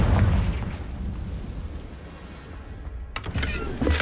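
A Confringo blasting spell goes off in Hogwarts Legacy, a loud low-heavy burst at the start followed by a rumbling decay, with further sharp impacts and crackles near the end.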